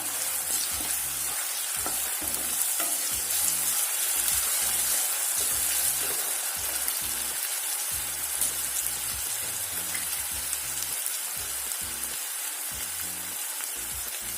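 Chopped onions fry in hot oil in a pan for a brinjal and potato curry, a loud steady sizzle broken by regular scraping strokes of a spatula stirring throughout.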